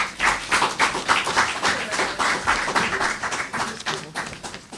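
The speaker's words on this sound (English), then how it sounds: "You can give the author another rousing round of applause" Audience at a book launch gives a rousing round of applause, steady, fairly loud clapping from many people throughout, with little talk.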